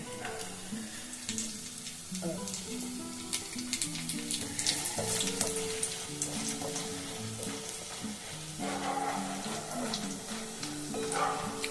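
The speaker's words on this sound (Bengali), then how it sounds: "আমি একটু একটু করে সব ভেজে তুলে নিচ্ছি।" Boondi, small drops of gram flour batter, fry in hot oil with a steady, close sizzle and bubbling that runs throughout, over a faint melodic background tune.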